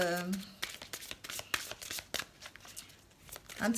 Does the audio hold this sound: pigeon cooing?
no